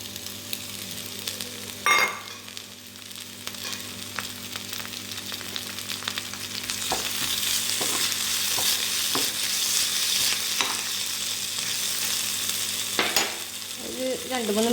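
Ginger and garlic fry in hot oil in a pan for prawn biryani, a steady sizzle with scraping stirs and a few sharp clicks of the spoon against the pan, growing louder as the stirring goes on.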